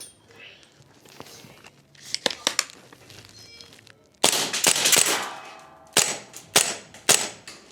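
A Vorsk VMP2 gas blowback airsoft rifle fires in sharp cracking shots, first a few scattered pops, then louder bursts and single shots with mechanical clacks in between, close to the microphone.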